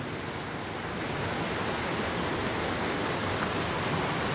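Streams running full after a heavy storm, a steady broadband rush of flowing water that stays even and unbroken throughout, moderately distant, with no voices.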